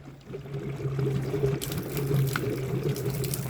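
Water runs steadily from an opened tap with a constant hissing, splashing flow and a low hum beneath, close by with no talk over it.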